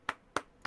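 Three sharp hand claps, evenly spaced and fairly close, each a quick bright burst with a short decay, with no talking over them.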